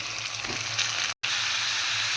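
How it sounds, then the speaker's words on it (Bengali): Lemon-rubbed chicken pieces fry with onions in a pan, giving a steady close sizzle and crackle of hot oil throughout, broken only by a very short gap. "চিকেনটাকে দিয়ে পেঁয়াজের সাথে আমি একটু ভাজা ভাজা মতো করব"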